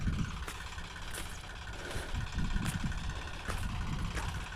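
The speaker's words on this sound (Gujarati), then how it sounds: "ખેડવાનું કામ ચાલુ છે. જુઓ સામે ઊભું ટ્રેક્ટર" A parked tractor idles in a ploughed farm field, its engine giving a steady low rumble with periodic knocking pulses, heard fairly close.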